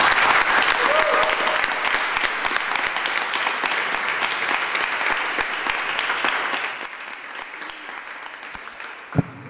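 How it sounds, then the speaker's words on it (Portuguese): An audience at an Ignite talk event in Abrantes gives sustained, loud applause that gradually thins out and ends with a single sharp knock. "Uma salva de palmas."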